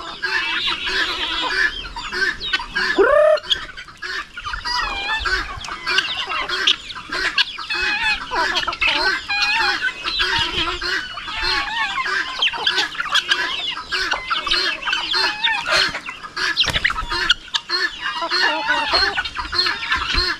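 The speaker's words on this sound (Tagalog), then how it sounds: "Ito na po yung panimula natin, yung mga manok natin dito" A flock of chickens kept on a farm alongside guinea fowl clucks steadily and loudly close by, with an occasional rooster crow rising out of the mix and a voice briefly talking over the birds.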